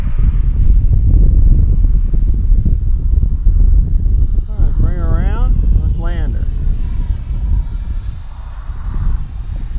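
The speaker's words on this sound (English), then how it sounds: "It is a little bit windy." Steady, loud wind buffets the microphone at a radio-controlled model airplane flying field, with a model plane engine rising and falling through it and a voice briefly heard.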